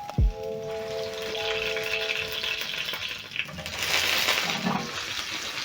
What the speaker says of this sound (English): I'm going to continue flipping and toasting the potatoes until the edges are nice and crisp.